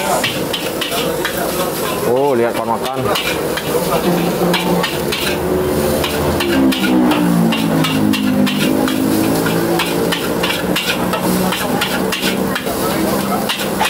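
Rapid metallic scraping and stirring in a wok as Padang-style fried rice cooks, with a steady sizzle of frying, loud and close, with a brief voice over the cooking.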